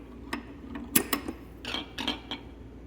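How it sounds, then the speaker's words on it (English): A wrench snugging a nut on a JessEm Mast-R-Lift II router table, heard as a handful of sharp, close metallic clicks and ratchet-like ticks spaced irregularly over a few seconds. "we're just gonna snug it up with this wrench"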